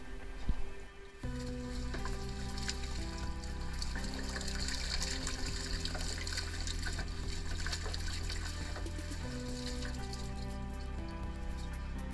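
Pond filter pumps run continuously, pushing a steady flow of water in and out of a filter chamber, heard as a constant close gurgling, trickling wash with a low humming drone beneath it.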